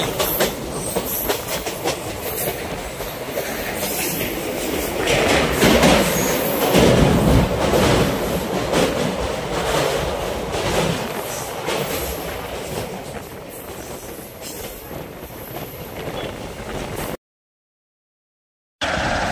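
Local passenger train running from Goalpara town toward Guwahati in Assam, a steady loud rumble of rolling carriages with rhythmic clickety-clack of wheels over rail joints throughout, briefly cut off near the end.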